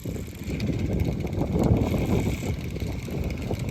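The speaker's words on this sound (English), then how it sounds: "That was a good gust." A strong wind gust buffets an uphill hilltop slope, a steady broadband roar of rushing air and microphone buffeting that holds loud throughout, with a faint mechanical whir beneath.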